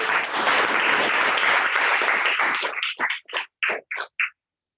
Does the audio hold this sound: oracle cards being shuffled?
no